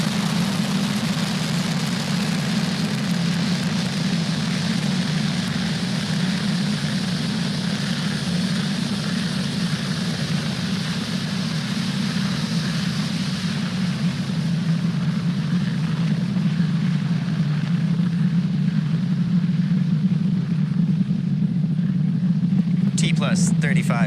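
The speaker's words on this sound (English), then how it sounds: "Falcon 9 has successfully lifted off from Pad 40 at Cape Canaveral Space Force Station" A SpaceX Falcon 9 lifts off from Pad 40 at Cape Canaveral Space Force Station with a steady, loud, broad engine roar and a strong low hum lasting the whole time, heard under ongoing launch commentary.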